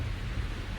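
Steady rain pours down with a low, rolling rumble of thunder beneath it in stormy winter weather, heard in a short, unbroken wash with no voices.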